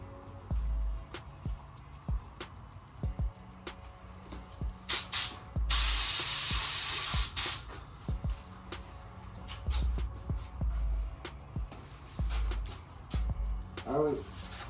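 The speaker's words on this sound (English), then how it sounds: "we're ready to get spraying." A spray gun hisses out paint onto a car hood at home in one loud burst of about two seconds, set among quieter handling clicks and low background noise.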